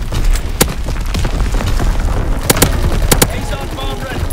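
Artillery booms mix with rapid gunfire in a Call of Duty: WWII domination match on the Shipment 1944 map, several sharp loud blasts over constant close battle noise, with game voice callouts.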